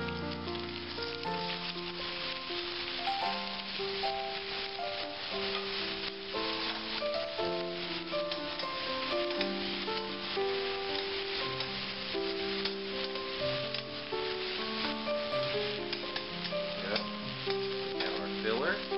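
Chili sauce and meat for beef or pork enchiladas sizzle steadily in a hot pan, a dense, continuous frying hiss with faint stirring, while soft background music plays underneath.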